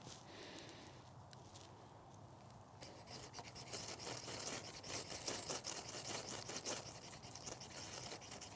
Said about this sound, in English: Scrape some of this off